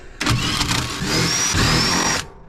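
A Ryobi cordless power tool whirs in one sustained burst of about two seconds while loosening the sway bar bolts on an RSX, close and loud, with a brief pause midway.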